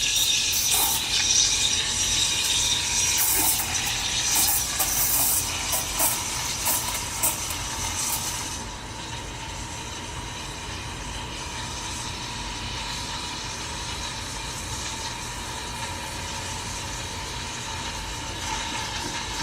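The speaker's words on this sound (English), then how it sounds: "you basically want to start foaming your milk right just barely underneath" A Profitec Pro 600 espresso machine steam wand frothing milk just under the surface, giving a loud, bright hiss with sputtering for about eight seconds, then easing into a steadier, softer roar.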